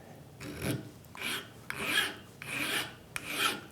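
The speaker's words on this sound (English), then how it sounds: "Just going to use a small file here." Small hand file deburring the edges of a machined metal clamp for a hand scraper: five rhythmic rasping strokes, close and fairly quiet, with no talking.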